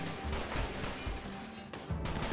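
Explosions in the colony game Rimworld during a fight against mechanoid turrets and shields, a string of sharp muffled bangs and crashes at irregular intervals, fairly quiet and distant-sounding, with no talk.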